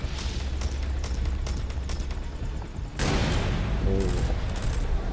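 Explosions and bursts of gunfire from Metal Gear Solid V come loud and close, with a rapid run of shots followed by a heavy blast and continued booming.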